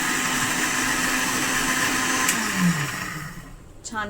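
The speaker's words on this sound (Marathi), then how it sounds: "आता मिक्सरला लावलंय आहे" A kitchen mixer grinder whirs steadily while blending soup ingredients, a loud continuous motor drone that winds down near the end as the machine slows and stops.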